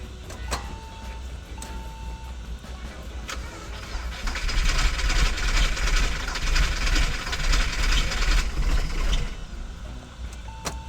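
A car engine misfiring at idle, likely from a faulty fuel injector, runs roughly with an uneven, stumbling rhythm, the running noise swelling for a few seconds midway, with a few clicks and beeps around it.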